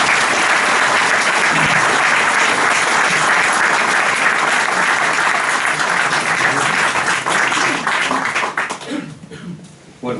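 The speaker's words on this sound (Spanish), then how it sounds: "pido un aplauso para Juan Antonio." An audience applauds a speaker's introduction at a geopolitics talk, loud and sustained crowd clapping that holds strong for about eight seconds and then thins out and dies away near the end.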